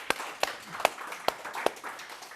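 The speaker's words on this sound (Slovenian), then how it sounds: "dajmo en aplavz kuharju iz Divina" A few scattered, separate claps sound for the cook from Divin after a breakfast of Segedin goulash, about five sharp hand claps spaced irregularly over a faint room background.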